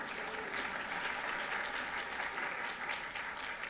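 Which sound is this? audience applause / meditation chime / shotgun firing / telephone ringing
audience applause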